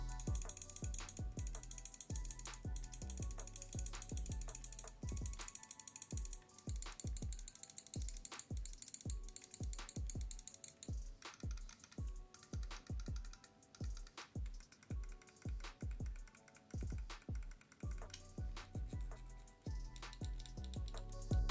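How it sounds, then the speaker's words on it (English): Button clicks from three gaming mice, the Glorious MM711, HK Gaming Hati S and Cooler Master MM Ultralight 2, sound as a long series of sharp, close, fairly loud clicks, often in quick bursts, with no talking. "The clicks are still tactile and easy to actuate, and they feel good when you click them from the front edge of the mouse."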